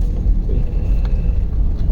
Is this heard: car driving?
yes